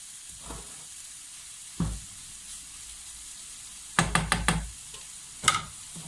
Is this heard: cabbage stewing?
yes